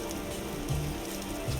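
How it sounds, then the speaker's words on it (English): Rainfall in the Vintage Story survival game: a steady, dense hiss of drops on surfaces, close and even throughout, with a couple of soft low thumps from in-game movement. "Oh, is it raining? I think, yeah, it's raining."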